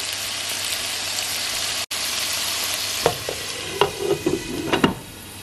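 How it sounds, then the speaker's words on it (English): Bacon frying in a pan for a keto bacon cheeseburger casserole, giving a steady close sizzle with a few stirring scrapes and pops in the second half, with no talking. "So go ahead, get your bacon cooked up"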